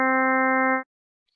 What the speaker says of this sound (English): The example I have on the left here has lots of energy in the upper harmonics,